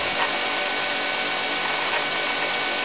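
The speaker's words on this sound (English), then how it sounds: "I'm going to start to hollow grind that out" A belt grinder wheel hollow grinds a tool-steel knife blade with a steady, loud, harsh rasping roar that holds even and unbroken from start to finish, with no voices.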